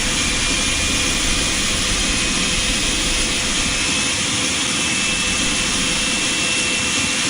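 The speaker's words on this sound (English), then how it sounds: "we have a good engine start" A DC-9 jet engine runs in Microsoft Flight Simulator 2020, giving a steady, loud, even roar with a broad hiss that holds constant throughout, with no voices.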